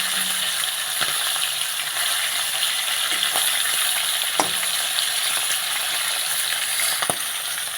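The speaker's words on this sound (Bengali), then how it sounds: "ইলিশ মাছের টবগা করার জন্য ইলিশ মাছটা একদম হালকা করে ভেজে নেব।" Hilsa fish pieces fry lightly in oil, a steady moderate sizzle running throughout with a few sharp clicks and taps from the utensil and pan.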